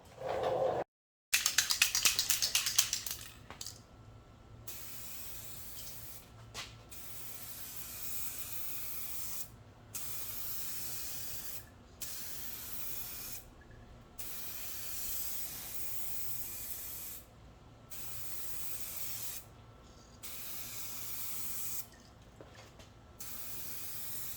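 SprayMax 2K clear coat hisses from an aerosol can onto car headlights in long, even passes, with short gaps between bursts and a louder rattle or burst at the start.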